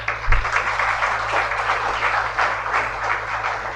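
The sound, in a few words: audience applause for seminar sponsors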